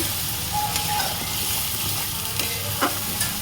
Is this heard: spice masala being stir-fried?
yes